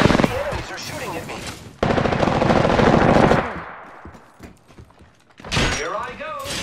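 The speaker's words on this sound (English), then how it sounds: "The enemies are shooting at me." Rapid automatic gunfire erupts in the Apex Legends video game, sustained loud bursts followed by a lull and then another volley, with game sounds and voices mixed in.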